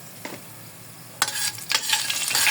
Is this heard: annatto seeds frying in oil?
yes